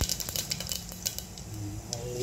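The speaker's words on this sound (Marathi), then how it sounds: "आपलं तेल तापलेलं आहे. आता ह्याच्यात आपल्याला घालायचं आहे जिरे थोडेसे." Cumin seeds dropped into hot oil in a pan, heard as a steady close sizzle with scattered sharp clinks and scraping of a utensil against metal cookware.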